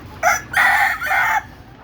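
A rooster crows once nearby, loud and clear, a short opening note followed by a long drawn-out call.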